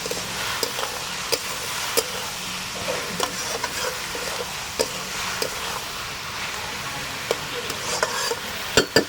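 Spices with salt and turmeric frying in a pan, stirred briskly: a dense sizzle with frequent sharp utensil knocks and scrapes against the pan, close and fairly loud, without speech.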